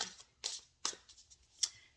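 Brisk riffling bursts of tarot cards being shuffled, three or four quick swishes spaced apart, close and fairly quiet.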